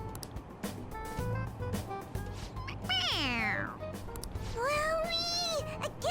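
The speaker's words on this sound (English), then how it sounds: "It meows when you press on its head." A toy cat in the game Persona 5 Royal meows twice when its head is pressed, the first meow long and falling, the second shorter and rising, both loud over steady game music.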